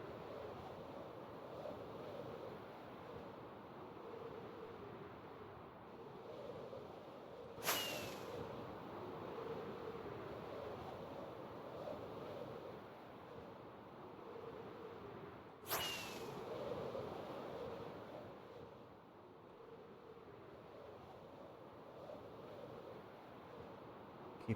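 Ocean surf washing steadily in Minecraft, a soft continuous wash of waves with wind, no talk, with two brief sharp clicks about eight seconds apart.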